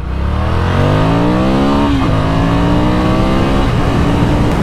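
A Ducati Scrambler Icon motorcycle accelerates hard, its engine note climbing through rising revs with a brief shift near the middle, loud and close throughout with no voices.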